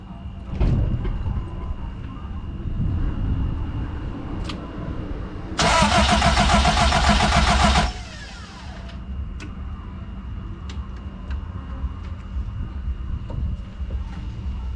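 A Toyota 4AGE silvertop engine in an AW11 MR2 cranks over for about two seconds in one loud, steady burst, then falls quiet. The garage is otherwise quiet apart from a few faint knocks.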